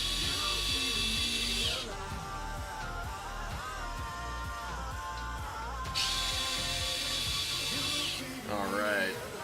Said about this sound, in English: grab our vessel electric screwdriver and let's go ahead and pull it apart